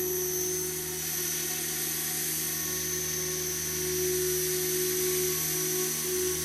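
An RC helicopter with a DFC rotor head flies in idle up, its steady high-pitched rotor and motor whine holding constant and close throughout with no talk.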